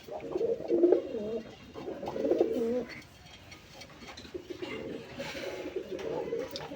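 A native pigeon gives deep, throaty cooing calls in a few separate bursts at close range. Quieter background noise fills the pauses between calls.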